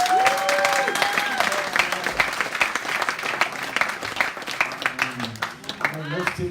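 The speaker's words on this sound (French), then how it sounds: "Je veux qu'on acclame son nom de tout notre cœur." A church congregation applauds God's name with dense, sustained clapping and cheering from a large crowd, while a voice calls out over the applause as it gradually thins toward the end.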